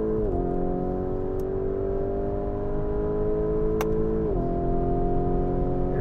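A 2019 Lamborghini Urus accelerates hard with a loud, steady engine drone close by, its pitch dropping sharply at two paddle-shift gear changes before climbing again, with no talking.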